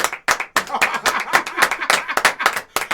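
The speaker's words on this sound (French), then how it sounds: "on re-applaudit, la régie applaudit" Audience applause and rhythmic clapping, loud and close, with quick sharp claps in an uneven beat filling the whole stretch.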